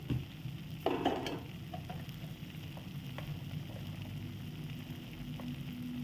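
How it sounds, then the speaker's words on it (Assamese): Soft, continuous sizzle of paneer gravy spices, including cumin powder, frying in a pan, with a few scraping clinks of a spoon stirring early on. "এতিয়া এইটো মই সঘনাই লৰাই অলপ ভাজি লওঁ।"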